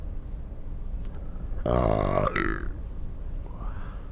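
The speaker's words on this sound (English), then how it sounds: "guy belching on air" A man lets out a single loud, drawn-out belch during a live broadcast, standing out clearly over a quiet background hum.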